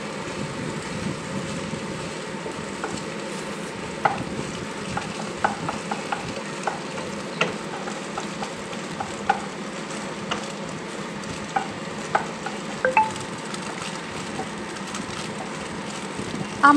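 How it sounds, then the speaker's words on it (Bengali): Scrambled egg frying in oil in a wok, a steady close sizzle with irregular stirring scrapes and small clicks from the spatula running throughout. "কড়াইতে তেল দিয়ে ডিমটাকে ভুজিয়া বা ঝুড়ো করে ভেজে নেব।"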